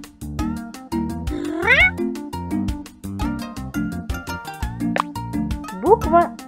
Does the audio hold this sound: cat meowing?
yes